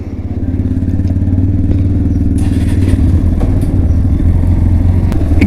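A 125 cc motorcycle on a mountain road near Manali runs close and loud, its low engine throb holding a steady rumble while it pulls away and rides on, with light rattles over the top and no speech.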